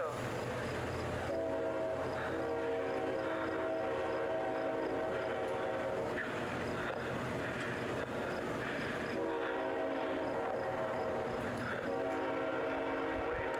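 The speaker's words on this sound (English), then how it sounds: "Okay, we get it, train." A train rolls past nearby in the Appalachian Mountains, a steady rumble of wheels and cars beneath repeated long blasts of its horn, loud and sustained throughout.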